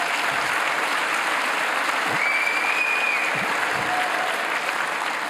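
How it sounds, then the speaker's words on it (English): Sustained applause from an audience at a speaking event, dense and steady throughout without a break, clapping filling the room at even loudness. "we've got to give them another round of applause"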